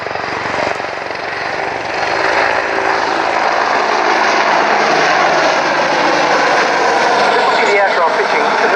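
An Apache attack helicopter flying a display at the IWM Duxford American Air Show, a loud, steady engine and rotor roar that swells and holds, with a commentator talking over it.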